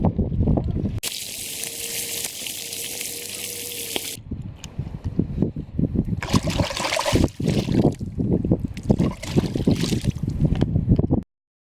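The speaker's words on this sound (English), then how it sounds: "I'm gonna filter some water from the Snake River." Water being filtered from the Snake River, a close steady rushing and splashing stream in long loud bursts separated by brief pauses and faint handling noises, with no talking.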